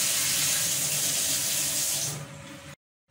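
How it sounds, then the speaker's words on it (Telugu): A newly fitted kitchen sink tap runs in a steady, close, splashing stream for a couple of seconds, then fades and shuts off into silence. "సో ఇదేమో నా గిన్నె తోముకోవడానికి షింక్ ట్యాప్స్ వచ్చి ఇలా ఫిట్ చేయించుకున్నాను."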